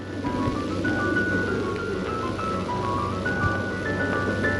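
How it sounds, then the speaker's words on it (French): A Grieg melody from the soundtrack of Kurosawa's film The Idiot, a thin, steady tune of sustained notes stepping up and down over a dense low rumble, moderately loud with no voices. "Ce fameux air de Grieg déjà entendu dans M. le Maudit, ici dans l'Idiot."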